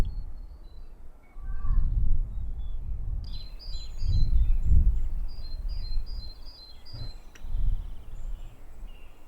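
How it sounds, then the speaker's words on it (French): Wild birds call and chirp in short bursts, some caw-like, over a low rumbling background that may include insects, with no one talking. "On va se remettre des oiseaux."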